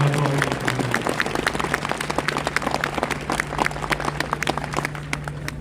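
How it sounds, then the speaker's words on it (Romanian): Outdoor applause from a crowd at a Romanian national day ceremony in Aiud, dense steady clapping lasting several seconds with a constant hum beneath it. "Merită un aplauze."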